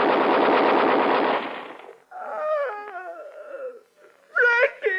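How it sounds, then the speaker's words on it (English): Machine gun fire in an Irish War of Independence radio drama: a loud, dense, sustained burst of rapid gunfire lasting over a second, followed by wailing, moaning cries and a sharp shout near the end. "Below there, machine guns."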